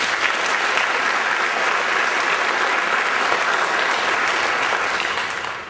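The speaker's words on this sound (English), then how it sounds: "Can you give her a round of applause?" A concert audience at a spring symphonic band and wind ensemble performance claps in a loud, dense round of applause honoring an all-district band student, holding steady before tapering off at the end.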